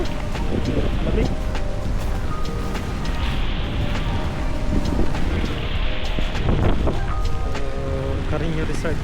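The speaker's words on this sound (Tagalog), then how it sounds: "Ulan lang talaga. Tsaka mahangin." Strong wind and rain at Dingalan beach make a constant loud, roaring wash of noise with gusty buffeting on the microphone, while people talk over it.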